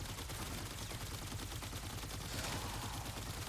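Haalvu Tau minigun firing continuously in the Warframe video game, a dense, steady stream of rapid shots with a constant low rumble, loud and close throughout with no pauses.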